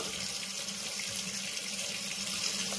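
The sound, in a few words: tap water running while rinsing makeup brushes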